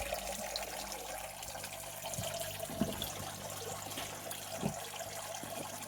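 Water tops up a small garden mini pond in a quiet, continuous trickle, with a couple of soft splashes and drips over the steady flow.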